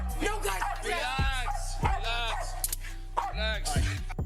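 Dog barking and yipping during a chaotic police encounter at a home, loud and close, with repeated barks mixed under overlapping shouting voices throughout.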